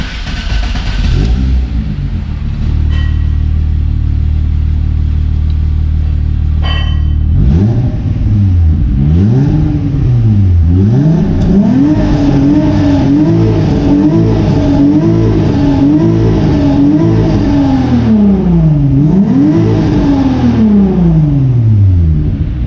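A VR6 car engine turns over and catches, settles into a loud idle, then revs repeatedly in rising and falling sweeps, close up and with no one talking.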